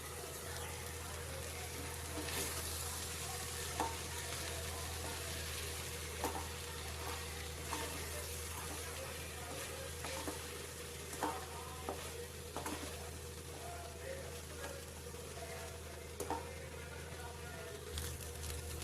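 Mushroom fried rice is stirred in a hot pan over a medium flame, giving a steady sizzle with a spatula scraping and clinking in irregular bursts throughout. A voice talks quietly underneath.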